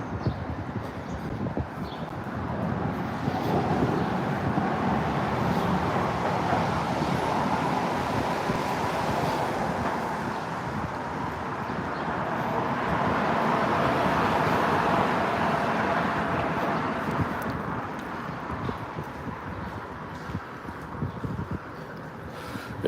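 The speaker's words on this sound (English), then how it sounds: "Yeah, that was the car." A loud car roars past in city traffic in Chicago, a broad sustained road rush swelling and fading over about twenty seconds with steady background traffic noise.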